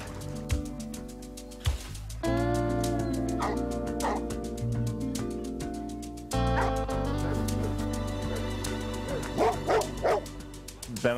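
Newfoundland dogs bark, yip and whimper repeatedly at a lake during water rescue training, loud and close over a busy outdoor background with faint voices.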